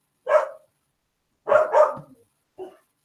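A pet dog barks indoors in three separate bursts against silence: a single bark, then a quick double bark, then a softer short yip, each close and clear.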